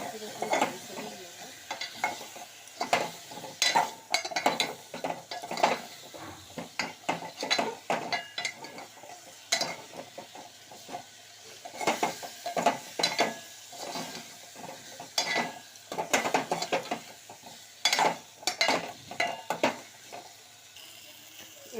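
Ground cumin and Kashmiri fenugreek dry roast in a pan for aloo dum, with a steady run of rhythmic scraping and stirring strokes of a spatula against the metal, close and continuous throughout.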